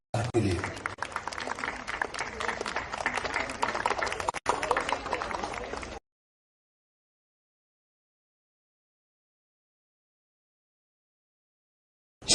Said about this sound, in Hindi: जोरदार तालियां हों फौज के लिए।